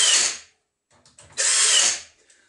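Power tool driving screws while a new Chinese string trimmer is assembled, heard as two short, loud whirring bursts close by, separated by a brief pause with faint clicks.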